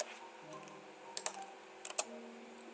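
Code being typed on a computer keyboard, with a few scattered, fairly faint key clicks and small bursts of keystrokes over a quiet background hum, no talking.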